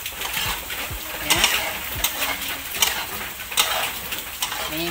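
A utensil scrapes and stirs through patin fish simmering in spicy tempoyak, giving repeated soft scraping strokes and a few sharp clinks over a gentle bubbling sizzle.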